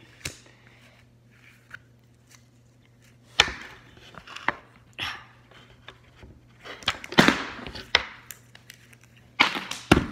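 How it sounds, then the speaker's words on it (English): Food is chopped on a board at a winter camp, with irregular knife strikes: a few isolated chops, then a denser burst of cuts and scraping near the end, all close and without talk. "okay, so we're doing chopping lessons."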